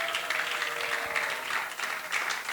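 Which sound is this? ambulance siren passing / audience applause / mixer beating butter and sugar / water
audience applause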